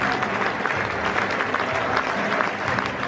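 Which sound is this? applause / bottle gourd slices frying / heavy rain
applause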